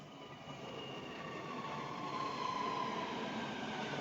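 A Dubai Metro train rolls into the platform with a steady, swelling rumble and faint wheel squeal, growing slightly louder as it arrives, heard from the station platform without talk.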